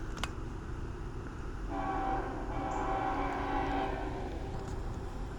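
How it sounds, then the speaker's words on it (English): Approaching train sounds a long steady horn blast over a low rumble of rail noise, moderately distant and with no talk. "Train coming."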